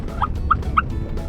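A wild turkey hen calls on South Carolina public land on opening day of turkey season: three short, evenly spaced yelps, fairly close, over quiet outdoor background.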